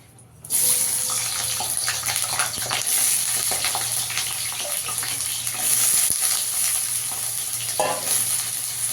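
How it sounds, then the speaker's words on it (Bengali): Potatoes fry in oil in a wok with a loud, continuous crackling sizzle that starts abruptly and holds steady close by, with faint clinks and no talk. "আলুটাকে কড়াইতে তেল দিয়েছি, আলুটাকে ভেজে নেব একটু।"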